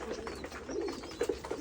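Domestic desi pigeons coo softly at a small pigeon farm, low repeated coos rising and falling in short bursts, fairly close, with no talking.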